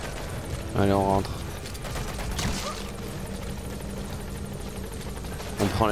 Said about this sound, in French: On prend l'hélico, allez vite.